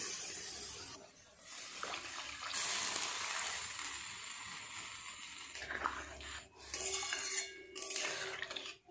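Water from a rinsed spice jar is poured into a pan of spiced potatoes and kohlrabi, a close splashing, running-water rush broken by brief pauses and soft utensil clinks.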